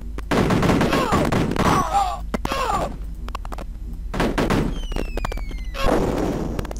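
Gunfire and grenade blasts in the retro Cannon Fodder video game come as repeated loud, punchy bursts separated by brief lulls, all fairly close and prominent.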